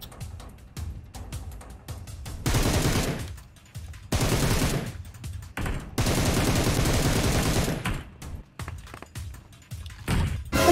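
Video game gunfire in a war shooter: loud bursts of automatic fire come in several long volleys separated by brief pauses, with scattered single shots, close and dominant, with no speech.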